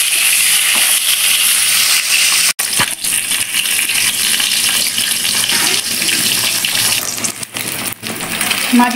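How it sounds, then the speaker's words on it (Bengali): Pieces of catla fish fry in a pan, giving a loud, constant sizzling hiss with a sharp clink partway through and bubbling crackle toward the end. "একটু ভেজে নেব।"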